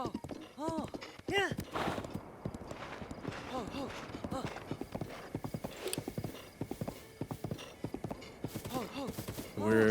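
Horse hooves clip-clop steadily through a ride in the video game Zelda: Breath of the Wild, with an occasional whinny and a voice talking over the galloping rhythm.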